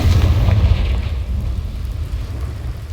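A Confringo explosive spell bursts in the video game Hogwarts Legacy, a heavy rumbling blast that peaks early and then fades over a few seconds, with no talking.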